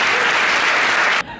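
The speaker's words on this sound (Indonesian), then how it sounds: "Tepuk tangannya dulu dong" Dense, loud applause from an audience, a continuous wash of clapping that cuts off abruptly near the end.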